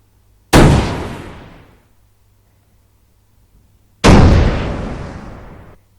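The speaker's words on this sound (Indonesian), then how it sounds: "Nah berarti ini audio ledakan." Two loud, booming video game explosion sound effects a few seconds apart, each a sudden blast that rumbles and fades away into silence.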